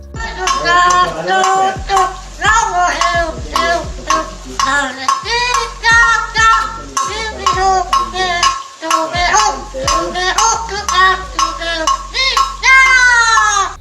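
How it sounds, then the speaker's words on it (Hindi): A parrot gripping a small pot in its foot sings in a rapid run of loud, warbling, chirpy notes. Sharp metallic clinks from the pot are scattered throughout. "अब जरा गाने गाने वाला पैरट भी तो देख लो"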